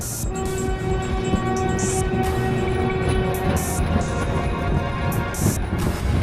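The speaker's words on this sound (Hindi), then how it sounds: "ट्रेन से रेलवे स्टेशन उतरने के बाद" A train pulls into a railway station with a loud sustained horn blast and heavy rolling rumble of railcars, with brief higher squeals of brakes or whistles, set as a sound effect in a Hindi story.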